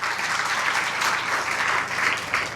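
A gathered audience at a one-year anniversary event of an evening open school claps steadily, a dense and fairly close round of applause that swells in waves throughout.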